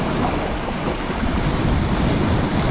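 Heavy, continuous surf of sea waves crashing on the beach at Dymchurch, loud and close, mixed with gusty wind buffeting the microphone.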